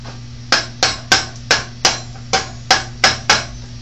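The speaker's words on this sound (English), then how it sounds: "What we need is a hammer." Nine sharp, evenly spaced hammer taps on a varnish can lid, each a crisp knock with a short ring, loud and close, over a faint electrical hum.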